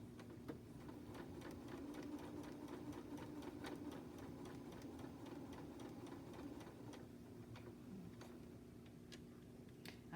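A sewing machine stitching fabric for a scrappy bunny project runs steadily in the background, with a fast, even ticking mechanical rhythm that is faint but continuous throughout.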